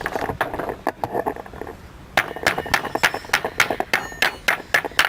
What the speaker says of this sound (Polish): I muszę teraz wybić gwoździe.